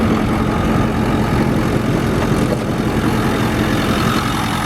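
A 2010 Ford F250 Super Duty Powerstroke turbo diesel idles with a steady, close, low rumble that holds even throughout, with no voices.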